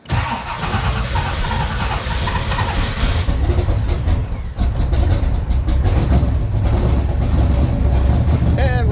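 A Shelby Cobra V8, in neutral after the fuel pump primes, cranks and catches, then settles into a loud, steady, rumbling idle close by.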